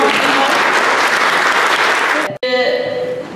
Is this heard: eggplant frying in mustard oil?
no